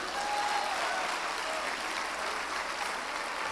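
A church congregation applauding in praise, a dense, steady wash of many hands clapping at close range that holds evenly throughout, with no talk over it.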